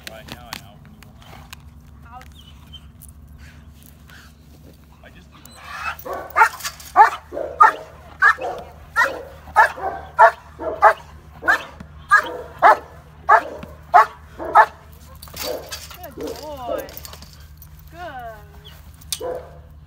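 A dog barks during bite training, a steady series of about fifteen loud, close barks in regular rhythm over a low steady hum, starting after a few quiet seconds and ending with soft whines.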